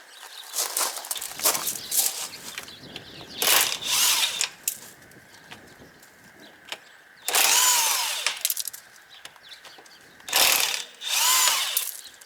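An impact wrench rattles loose the wheel nuts on a Ford Explorer 4.0 V6, several loud buzzing bursts of a second or two each, separated by quieter handling noises and footsteps.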